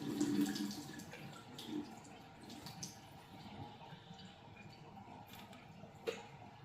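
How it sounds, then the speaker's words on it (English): Liquid from canned okra drained off in a kitchen while making slow cooker gumbo, a faint, quiet trickle with small drips and taps, with no talking. "I am going to drain the canned okra that I'm using."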